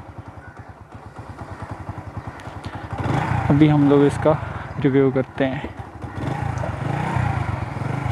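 A Revolt 70cc motorcycle, a cheap Pakistani bike, putters with a steady low engine beat, rising louder as it gets going, while someone talks over it.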